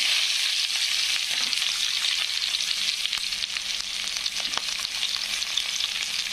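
Onion sautéing in oil with cumin, garlic and mustard seeds, a constant close sizzle with occasional stirring scrapes and small pops.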